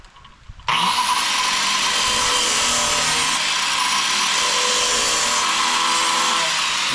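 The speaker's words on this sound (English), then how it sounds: "Nothing 7-inch deck wheel won't take care of." A 7-inch grinder wheel starts abruptly and cuts metal while fitting a radiator on a Ford F100, a loud, steady, high-pitched grinding whine that carries on without a break, close up and with no voices.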